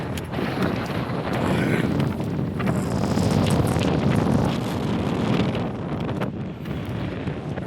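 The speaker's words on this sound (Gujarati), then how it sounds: "મસ્ત ઠંડુ ઠંડુ પવન આવે" Strong wind buffets the microphone outdoors in a temple garden, making a loud continuous rumbling roar with gusts that swell and fade across the whole stretch.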